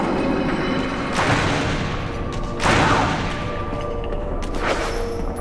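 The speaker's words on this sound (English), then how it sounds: "Keep shooting, Barry. Keep shooting" Loud gunfire bursts in the Resident Evil video game, with two or three booming volleys over a continuous noisy background.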